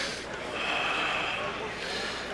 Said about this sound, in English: Focus on that breathing